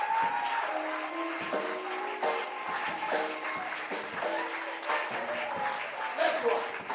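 Applause from a church congregation fills the space, a steady dense patter of many hands clapping with a voice speaking over it and a few tonal sounds rising above the crowd.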